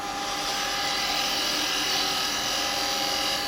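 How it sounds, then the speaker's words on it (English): A woodturning lathe spins as a gouge hollows into end grain on a Christmas bauble, a steady close high-pitched whirring and scraping that runs without a break, with no talking. "So we're going to be hollowing into end grain."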